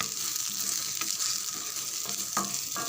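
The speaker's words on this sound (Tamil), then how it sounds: "ஒரே ஒரு வெங்காயம் வதக்க போகிறோம்" A single onion sautéing in a little castor oil while making crispy mint pakoda, a steady bright sizzle with occasional stirring scrapes and clicks, moderately quiet and with no talking.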